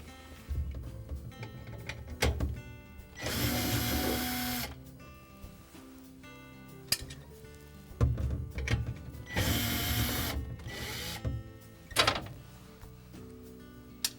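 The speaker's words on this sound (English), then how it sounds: "We'll next remove the 3 screws that hold that auger motor assembly in place." A power driver backs screws out of the auger motor assembly on a GE refrigerator's dispenser crusher motor, whirring in two longer bursts and several short ones, with clicks and handling noises in between.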